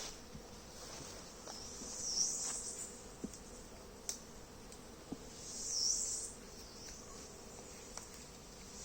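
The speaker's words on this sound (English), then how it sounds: "Bees are already crawling into this box." Bees buzz steadily around a nuc box being opened for transfer into a brood box, a continuous low hum with two louder whines of bees flying close, plus a few faint knocks.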